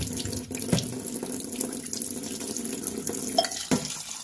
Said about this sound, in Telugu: కొన్ని మూడు సార్లు శుభ్రంగా కడగాలి.